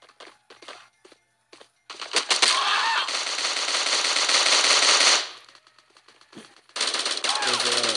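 Automatic rifle fire in the mobile shooter Bullet Force: scattered short shots, then a loud sustained burst of about three seconds, a pause with a few faint pops, and another long burst at the end, with no talking.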